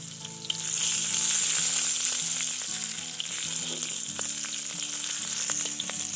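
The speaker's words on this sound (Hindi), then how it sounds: "हमारे आलू और चना जो है ना वह भून के निकाल रहे हो" Potatoes and chickpeas roasting and frying in a pan outdoors at a village riverside picnic, a steady close sizzle with occasional stirring scrapes and music playing underneath.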